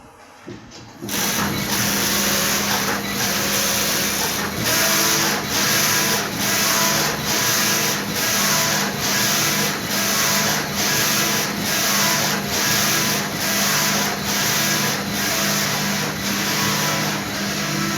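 A flat knitting machine knitting its first sample with a steady mechanical whir and a regular rhythmic pulse of carriage passes, loud and continuous for most of the clip after a quiet start.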